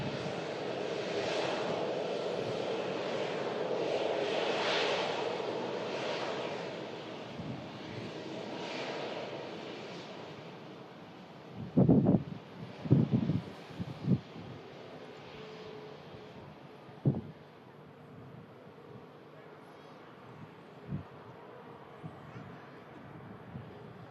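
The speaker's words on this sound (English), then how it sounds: "Have a Sun Express 73 just crossing the active arrivals runway as well" A SunExpress Boeing 737 crossing an active arrivals runway gives a steady, distant jet engine roar with wind noise, heaviest early on and easing, broken by a few short knocks and thumps.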